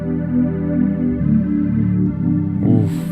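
A sustained, warm synth pad from Alchemy with a warp effect applied, its chord swelling and thickening over a few seconds, steady and alone without voices.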